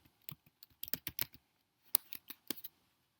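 Keystrokes on a computer keyboard while entering a short holiday greeting, heard as about a dozen quick, close clicks in uneven bursts with brief pauses, no talk over them.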